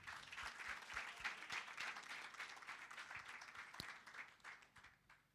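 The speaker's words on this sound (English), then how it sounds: "Let's continue giving him a round of applause." An audience at a women in sport summit applauds a speaker, dense, even clapping from a crowd that holds steady for several seconds and then fades toward the end.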